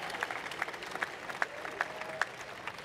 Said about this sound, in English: Could we please give just another round of applause for the Color Guard and Ms. Moser?